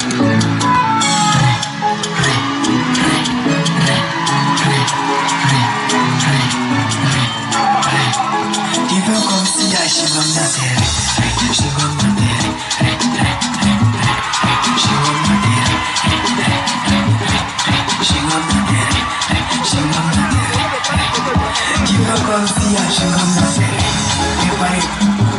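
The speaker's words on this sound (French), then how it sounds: "On les applaudit." An audience at a live event applauds and cheers loudly and continuously, a dense wash of clapping and whoops that fills the whole stretch, with music in the first part.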